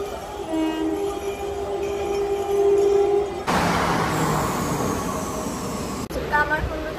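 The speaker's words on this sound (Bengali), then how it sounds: "আমাদের এদিকে ট্রেন ঢুকে গেছে" A train pulls into a crowded station with a sustained horn blast followed by the rumble and clatter of the cars, loud and close, with voices talking in the crowd.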